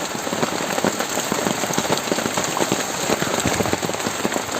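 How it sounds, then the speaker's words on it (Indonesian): Rain falling on a badly damaged hut, a dense continuous hiss of drops pattering close and loud on the shelter, steady throughout with no voices. "Karena ini hujan"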